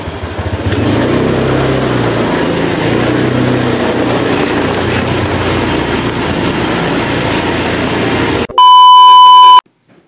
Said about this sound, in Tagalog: sumakay na ako ng motor para makapunta na doon sa papagupitan ko